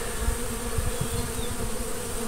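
Honeybees buzz around a tree during a trap-out, a dense, steady swarm hum close by with individual bees droning past.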